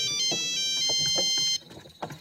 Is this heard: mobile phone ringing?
yes